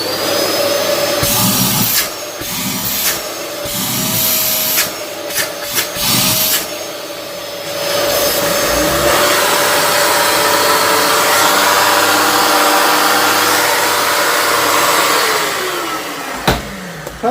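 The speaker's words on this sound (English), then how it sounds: "now it's time to give it a try" A Dyson DC32 vacuum cleaner, freshly deep cleaned, starts with a few short bursts, then runs as a loud, steady whine with a rising motor tone. It stays close and continuous until it cuts off near the end.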